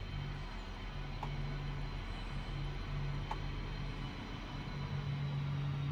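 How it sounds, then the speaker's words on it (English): AGCO Valtra tractor engines idle in a low, steady drone with a smooth, even hum throughout, and two faint sharp clicks rise briefly above it. "you can hear the AGCO Valtra engines purring away"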